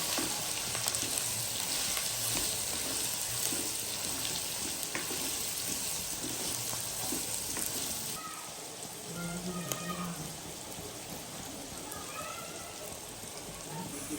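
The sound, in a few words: onions shallow frying in wok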